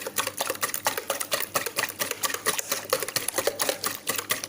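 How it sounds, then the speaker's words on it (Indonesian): Eggs beaten by hand for a steamed banana sponge cake, a fast steady clicking of a whisk against the bowl in a brisk, even rhythm, close and with no talk. "Kita aduk telur, tidak perlu pakai mixer, kita pakai tangan aja cukup."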